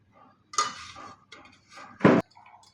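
Chopped jaggery being stirred into ugadi pachadi, with a spoon scraping and clinking against a bowl in a few soft knocks and one louder clatter, close by and without talk.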